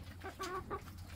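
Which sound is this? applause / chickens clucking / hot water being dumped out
chickens clucking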